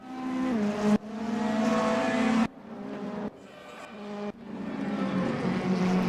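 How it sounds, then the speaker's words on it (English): Race cars in a racing video game roar past in several quick bursts with abrupt cuts between them, loud engine tones rising and holding with no talk over them. "I did not think that the pass could happen there into turn 1, but Jason Monds proving me wrong"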